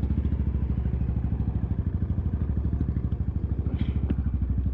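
A motorcycle idles nearby on a mountain route, with a steady low throbbing engine pulse throughout and a faint clatter over it.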